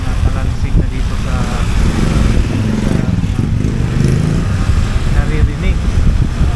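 A motorcycle ridden on the road with a rattling front end, loud close engine drone and clatter running throughout, with someone talking over it.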